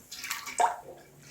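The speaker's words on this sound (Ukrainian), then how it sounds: "Заливаємо банки киплячим маринадом другий раз" Boiling marinade poured into jars of pickled mixed vegetables, a brief, soft splashing pour lasting about a second.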